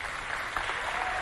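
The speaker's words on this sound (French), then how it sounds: "On applaudit le directeur technique." Applause for a technical director at a charity event, steady dense clapping filling the whole moment without pause.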